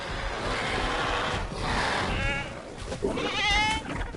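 A goat in Jurassic World Evolution 2 bleats as it gets kicked, with wavering bleats around the middle and again near the end over a busy, noisy game backdrop.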